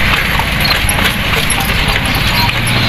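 A horse's hooves clip-clop in a steady rhythm as it pulls a kalesa carriage through city streets in San Fernando, Pampanga, under loud road and wind noise, with voices talking.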